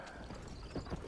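Horse hooves clop in a quick, uneven rhythm in the video game Red Dead Redemption, a couple of soft strikes over a dense, constant background wash.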